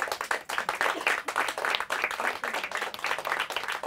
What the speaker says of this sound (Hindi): तो तालियां हो जाए ऑडियंस